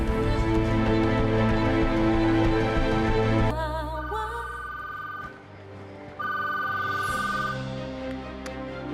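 A telephone rings in repeated electronic tones, with a sustained ring followed by shorter bursts after a brief gap. The ringing sounds fairly close and is heard alone, with no one talking over it.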